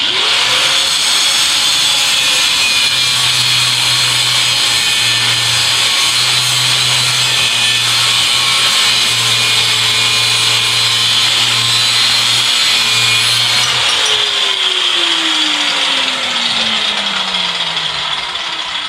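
A stubborn steel U-bolt on a rear axle (8 1/4-inch rear end) being cut with a power saw, a steady loud grinding buzz running about fourteen seconds before the tool winds down and trails off.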